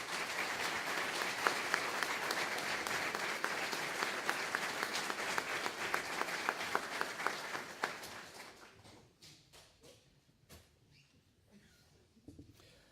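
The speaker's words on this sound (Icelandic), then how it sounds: "Gefum henni gott klapp." Applause fills a hall at a graduation ceremony, a steady wash of many clapping hands that lasts several seconds, then fades to scattered claps and quiet, heard from some distance.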